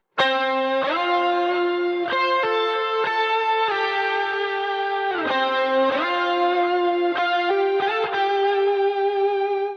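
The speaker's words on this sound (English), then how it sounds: "The last thing I felt this song needed was a massive guitar lead." A sustained electric guitar lead with a shimmering chorus effect and slight distortion plays alone, sliding between held notes with a few quick bends.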